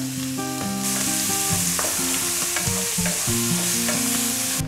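Onion and garlic fry alongside pork belly in a pan, a loud continuous sizzle under steady background music.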